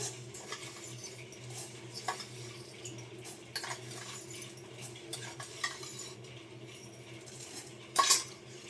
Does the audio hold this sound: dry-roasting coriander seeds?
yes